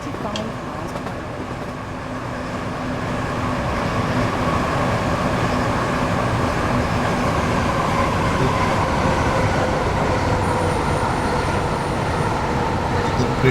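Class 465 electric train from Train Simulator running steadily, a continuous broadband rumble and rolling hum that swells slightly after the start and holds loud throughout, with faint tonal whine on top.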